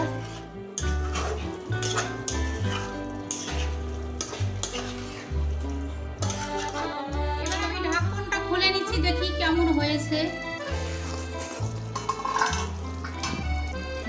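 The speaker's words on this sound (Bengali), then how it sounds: "দেখুন আমি আলুর সঙ্গে বাইন মাছটা আরও কষিয়ে নেব" Fried baim eel pieces sautéed with potatoes in a pan for a Bengali oil curry: steady sizzling with repeated scraping strokes of a spatula, set against continuous rhythmic background music.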